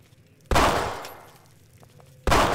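Two sharp, loud gunshots in Fallout 3 crack out roughly two seconds apart, each followed by a long decaying echo.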